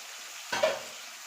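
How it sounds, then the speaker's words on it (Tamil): Dried fish dropped into hot oil for frying gives a short burst of sizzling over a low background hiss, close and moderately loud, then settles back down. "நான் ஏன் கருவாடு எண்ணெயில் போட்டு பொரிக்கிறேன்"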